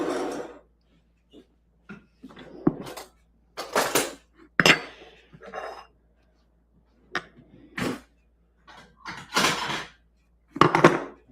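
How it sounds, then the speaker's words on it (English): Bowls and a serving spoon handled in a home kitchen while making tiramisu: intermittent close clinks and clatters with quiet gaps between them, no speech. "Do you want to give me a couple of bowls and serving spoon?"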